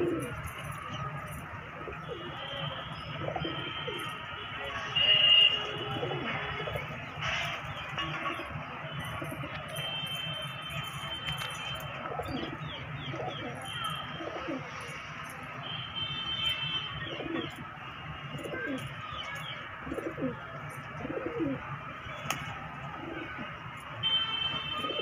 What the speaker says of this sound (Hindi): अब जंगली कबूतर अंदर जाना शुरू हो जाएंगे